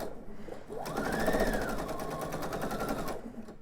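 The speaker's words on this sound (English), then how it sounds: "I'm sewing with Aurifil 50 weight, color 2600" A home sewing machine runs a quarter-inch seam with Aurifil 50 weight cotton thread, a fast even mechanical rattle starting after a moment and stopping about three seconds later, near and alone.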